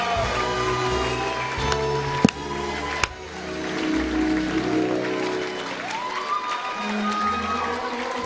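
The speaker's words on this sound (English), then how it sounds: "Give them a big round of applause." Audience applause at a reunion dinner, clapping mixed with music with a steady beat and melody, some cheering and a couple of sharp knocks, moderately loud throughout.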